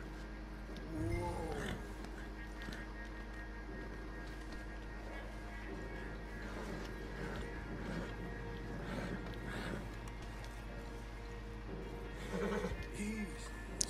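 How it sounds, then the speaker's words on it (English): A horse neighs and whinnies in the video game Red Dead Redemption 2: a wavering whinny early on and another near the end, over steady low game ambience with faint hoof and tack sounds. "Well, this horse is not happy,"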